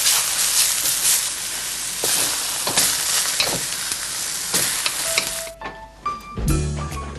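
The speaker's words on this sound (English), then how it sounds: "We stir, we fry, we stir fry" Food stir-fried in a hot pan, a loud steady sizzle with scraping stirs and clatters, then the sizzling fades out to a few clinks near the end.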